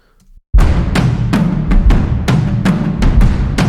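Loud, punchy orchestral hits strike in an uneven rhythm, each accent carrying a deep sub-bass thump beneath a bright, sharp attack.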